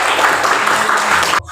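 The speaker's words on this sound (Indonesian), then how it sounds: "tepuk tangan untuk Agustus" A classroom group claps for a presenter after a discussion, brisk and steady, then cutting off abruptly.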